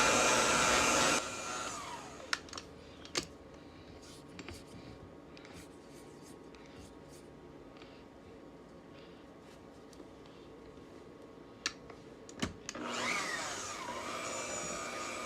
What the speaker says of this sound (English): So I have this on number 1 on my mixer, and we're gonna let this mix together for 15 minutes.